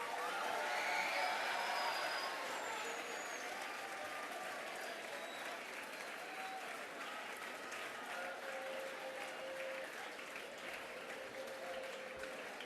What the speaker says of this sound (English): please welcome our distinguished guests for this evening with a loud round of applause